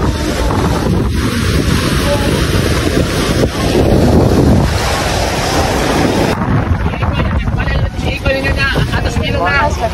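A boat moves over the open sea with heavy wind buffeting the microphone, waves and engine rumble blending into a loud, steady roar.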